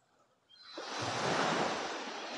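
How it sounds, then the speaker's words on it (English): A single wave on a beach in Thailand swells in from near silence and breaks into a soft, hissing wash that lingers, close and gentle. "to the sound of the waves lapping on the beach just behind us here"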